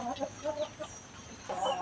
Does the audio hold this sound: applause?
no